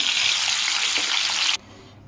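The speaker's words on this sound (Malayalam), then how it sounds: "നമുക്ക് ഈ മീനെ ഓരോന്നിനെയായിട്ട് ഈ എണ്ണയിലിട്ട് ചെറുതായിട്ടൊന്ന് വറുത്തെടുക്കാം" Marinated fish pieces shallow-fry in oil with a loud, dense, close sizzle that cuts off abruptly after about a second and a half, leaving a quiet room tone.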